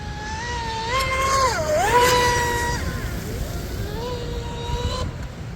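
A radio-controlled boat running laps on Turnigy Heavy Duty LiPo batteries, its electric motor whining steadily and rising and falling in pitch as it speeds up and turns, heard from a moderate distance over a broad rush of water and wind.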